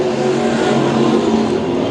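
Race cars roaring down the front straightaway at Lakeside Speedway, a loud, dense engine drone that holds steady through a short stretch, no speech over it.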